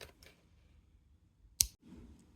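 Scissors snip crochet thread once: a single sharp, close click-cut after a quiet stretch of faint handling noise.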